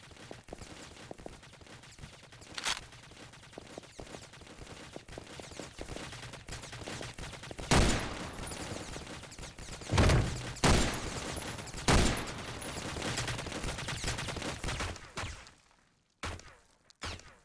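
Gunfire in the top-down shooter game OTXO, with scattered single shots and then a run of loud bursty blasts fired at targets over a low background hum, ending in a few sharp final bangs.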